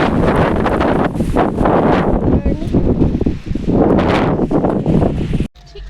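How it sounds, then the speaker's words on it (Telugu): Strong wind buffets the microphone along a road, loud roaring gusts that rise and fall for several seconds before cutting off abruptly near the end. "దారిలా ఫుల్ గాలి వస్తుంది"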